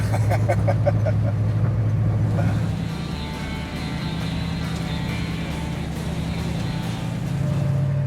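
An old-school Southern California hot rod engine idles with a steady, deep rumble, loud and close, its tone shifting slightly partway through and then holding even to the end.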